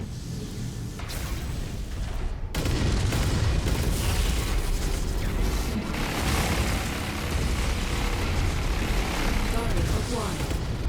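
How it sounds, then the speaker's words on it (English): Missile explosion in the MechWarrior 5 mech combat game, a loud booming blast that swells into a sustained roar of rumbling detonations and weapon fire lasting several seconds, with a synthetic voice cueing over it. "Incoming missile."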